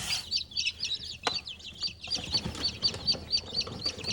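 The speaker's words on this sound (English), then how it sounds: "28 chicks and 2 ducklings." Twenty-eight baby chicks and two ducklings, scared and shivering under a heat lamp, cheep in a dense, continuous high-pitched chorus of overlapping peeps, close and steady throughout.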